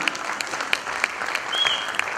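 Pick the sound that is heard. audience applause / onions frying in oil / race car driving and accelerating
audience applause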